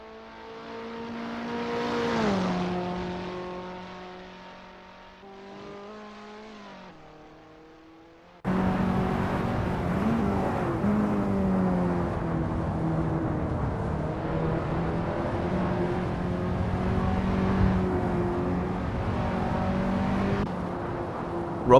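KTM X-Bow R race cars at Monza in Assetto Corsa, engines droning and shifting pitch in a rise and fall, then a sharp cut to a louder, sustained roar of several cars running together.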